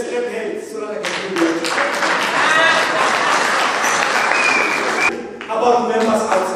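A large audience at a provincial teachers' union conference claps hands, a dense steady applause for about five seconds with a voice speaking before and after.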